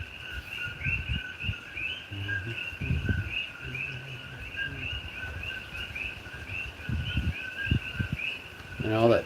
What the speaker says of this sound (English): all that chirping that you hear are koki frogs